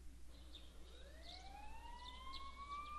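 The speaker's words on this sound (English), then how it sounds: "You can hear sirens in the distance." Distant sirens in the video game Persona 4 wail as faint, slowly rising tones over a low steady hum, with no voices.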